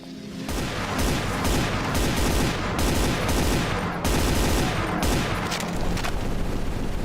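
Brutal Doom gunfire played in GZDoom on Doom 1: a loud, nearly continuous barrage of rapid shots and booming blasts, sustained and dense for about seven seconds with no talk.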